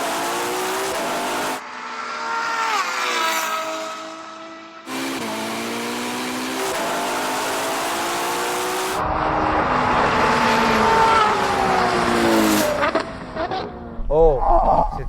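Ferrari cars, including a Purosangue, 812, SF90 and 296 GTB, launch in a drag race with wheelspin, engines rising and falling through repeated revving sweeps, a sustained loud mechanical roar with shifting pitch and a brief squeal near the end; voices talk over it.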